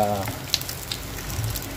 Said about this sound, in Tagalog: Habang naghihimay tayo, nagpiprito na po tayo nitong ating isda.